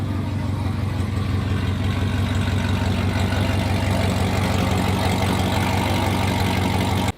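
A Chevrolet Corvette C7 Z06 sports car idles loudly and close by, its engine a deep continuous rumble with a slightly uneven, choppy lope from its tune, running steadily before cutting off abruptly at the end.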